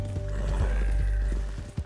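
A horse in the video game Red Dead Redemption 2 snorts and shifts with a few hoof knocks, close and fairly loud over a low steady hum, with one sharper knock near the end.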